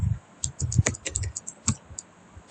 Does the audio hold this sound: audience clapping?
no